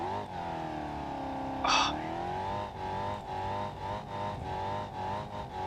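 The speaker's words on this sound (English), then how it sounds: "the clutch is overheating and the tyres are popping and it's just about making it up" A car in BeamNG.drive strains uphill with an overheating clutch and popping tyres, its engine droning steadily at high revs with wavering pitch and a short hiss burst.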